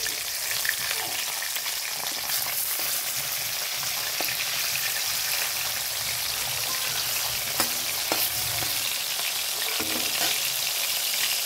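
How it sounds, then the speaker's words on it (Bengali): Katla fish pieces fry in a pan with a dense, even sizzle, loud and continuous, with a few faint clinks of a utensil as they are turned. "এবার মাছ ভাজাগুলোকে উল্টে দিব সুন্দর করে।"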